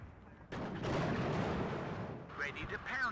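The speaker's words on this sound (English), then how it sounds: "Oh, that's counter battery." Incoming counter-battery artillery fire in the WARNO strategy game lands as a heavy rumbling barrage after a short pause, then fades, and a voice talks over the tail.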